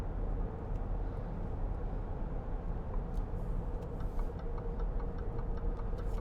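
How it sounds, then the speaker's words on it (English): A 2012 Range Rover TD V8 indicator ticking faintly at a steady rhythm inside the cabin, set under a loud continuous road and engine rumble. "you can hear the indicator"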